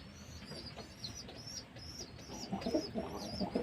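Pigeons coo softly in a loft or yard, low repeated murmuring calls building toward the end, with other faint bird sounds and no talk.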